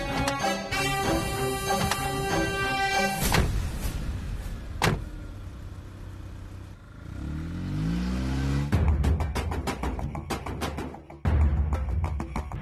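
A car drives in a Tamil TV serial scene, its low engine rumble and road noise rising in the middle and later part, preceded by music and mixed with mechanical whirs and a brief thump, with no one speaking.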